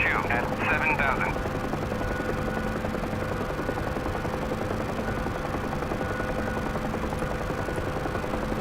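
UH-1H Huey helicopter in the DCS World flight simulator, a steady droning rotor and turbine hum running continuously at even loudness, with a brief higher chirp near the start and radio-style talk over it.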